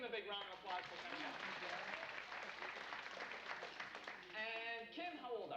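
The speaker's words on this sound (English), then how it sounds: "let's give Kim a big round of applause for coming up" An audience at a magic show claps for a young volunteer who has come up on stage, a continuous round of applause with a voice speaking over it near the start and end.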